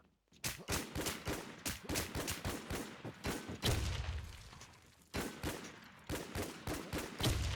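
Rapid automatic gunfire in the game WarZ: long bursts of sharp, closely spaced cracks with brief pauses between volleys, loud and near, without any talking.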